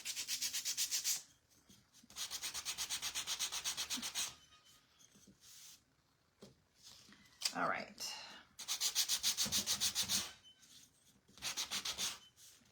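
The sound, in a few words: sanding wood by hand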